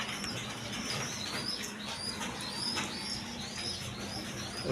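A Mosholdom hen pigeon, a laying female, gives soft low coos at close range, while thin bird chirps keep up a steady, busy chatter above.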